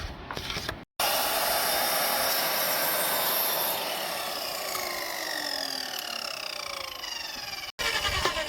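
A power saw cuts through wood, running as a loud, continuous buzzing rasp for several seconds after a short start, then stopping briefly before restarting near the end.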